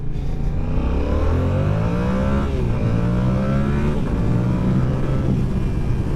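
A stock-exhaust 2023 sport motorcycle accelerates hard and loud, its engine note climbing through several gears in a steady rising drone with brief dips at each shift.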